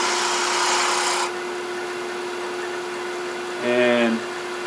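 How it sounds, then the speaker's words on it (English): A woodturning gouge cuts a wooden spindle on a lathe for a twig pot, giving a brief broadband scraping burst at the start, then a steady motor hum with a short tonal swell near the end. "we're cutting downhill with the grain, larger to smaller, because this is a spindle"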